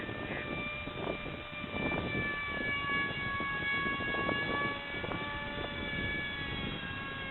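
A light scratchbuilt RC plane of about 130 grams cruising in wind at two-thirds throttle, a steady buzzing whine with a fixed pitch carrying on continuously, with gusty wind rumble underneath.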